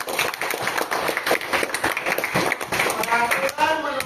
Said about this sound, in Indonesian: Gak apa-apa kalau mau tepuk tangan